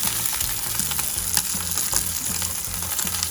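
Steak sears in a stainless steel pan with a loud, continuous close sizzle and crackle, and brief spatters pop through the hiss.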